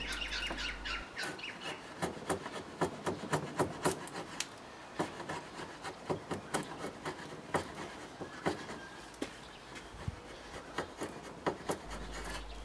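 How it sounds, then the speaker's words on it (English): A sharp chisel makes a paring cut, slicing diagonally across the grain of a piece of scrap timber, with a quick series of close, crisp scraping strokes that repeat irregularly. "I'm using a paring cut diagonally across the grain to slice the wood."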